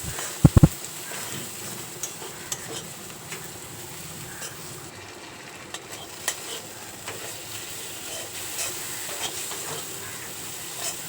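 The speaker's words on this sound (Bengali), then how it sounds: "এবার সমস্ত উপকরণ খুব ভালো করে ভেজে নেব" Spices and Kashmiri chili powder fry in a pan for a prawn and pointed gourd curry, giving a steady close sizzle with occasional stirring scrapes and a couple of sharp knocks near the start.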